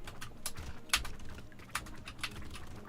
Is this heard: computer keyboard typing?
yes